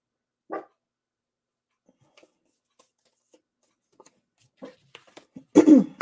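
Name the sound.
dog barking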